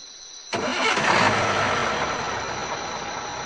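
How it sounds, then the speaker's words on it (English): Truck engine starting: near-silence, then a sudden loud crank that catches and settles into a steady, fairly loud idle rumble, no voices. "Joe started the engine, and the journey began."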